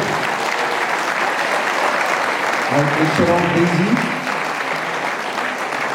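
Audience applause at a French public political meeting in Maubeuge, steady and loud throughout, with a voice speaking over it midway.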